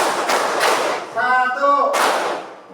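Schoolchildren in a classroom clap a short rhythmic pattern in unison, sharp bursts of claps bracketing a brief stretch of group voices chanting the count.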